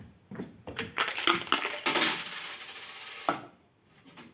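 Several coins tossed and clattering onto a tabletop during a classroom physics exercise, a quick burst of close metallic clinks and rattles settling over a few seconds, with no talk.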